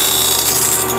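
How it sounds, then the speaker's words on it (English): Cook's bandsaw blade sharpener grinding a bandsaw blade held in its clamp, a steady, loud, continuous abrasive whir with a bright hiss, no pauses and no talking. "I'll let it give one rotation on the cam, turn it on, and we're back grinding"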